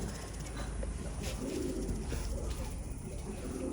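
Pigeons coo softly in a loft, low throaty calls repeating over a steady hiss of background noise, fairly close with no clear talk.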